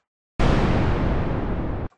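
Colored noise from the Thor synthesizer's noise generator in Reason, a dense broadband hiss weighted toward lower frequencies, starting abruptly, sustaining at a loud, even level for about one and a half seconds, then stopping sharply.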